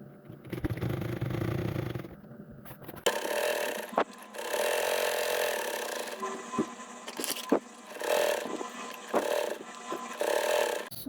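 A sewing machine stitches the lining of a bag's slip pocket in short runs of rapid mechanical clatter separated by brief pauses and small clicks, fairly close and unaccompanied by talk.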